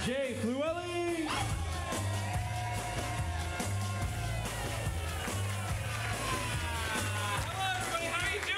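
A comedy theater audience cheers and whoops loudly for the host, with crowd noise rolling on throughout while an announcer talks over it.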